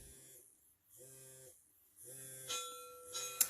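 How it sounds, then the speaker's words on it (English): An RC hydraulic excavator's controller sounds its start-up sequence: a series of clear electronic chime tones and buzzing beeps in short stepped bursts separated by gaps, fairly quiet and close. "Now, you can hear a chime and a buzzer."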